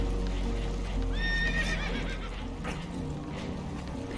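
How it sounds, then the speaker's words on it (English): In the video game Red Dead Redemption 2, a spooked horse whinnies loudly with a rising, quavering neigh over rumbling background noise and faint hoof clatter. "Horses are spooked"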